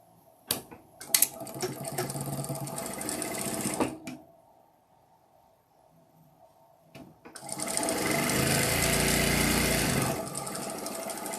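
A sewing machine runs in two bursts of rapid stitching with a quiet pause between, the motor whirring steadily as it sews.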